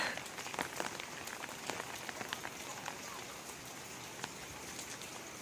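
Steady rain falls on a temple grounds in Thailand on a cold day, making a dense, continuous hiss with scattered close drip patters throughout, fairly soft and even, with no one speaking.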